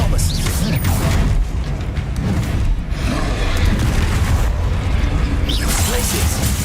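A disarming spell cast in Hogwarts Legacy, a video game: loud booming magical blasts and bursts over a dense, continuous rumble of combat noise, with a couple of sharp hits standing out across several seconds.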